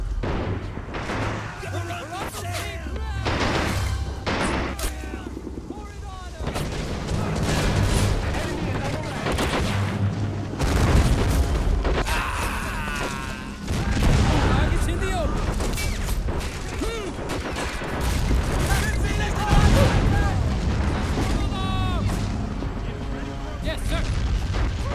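Dense battlefield noise from Men of War Assault Squad 2, with continuous rifle and machine-gun fire, heavy booms and rumbling explosions throughout, and soldiers' voices shouting orders over the combat.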